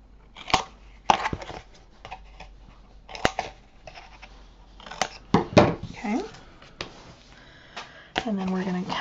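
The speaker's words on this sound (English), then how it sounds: "I'm just going to cut those corners out." Scissors snip the corners off paper for a BoBunny Christmas mini album, making several sharp, separate cuts up close, with handling rustles between them and a voice speaking at the end.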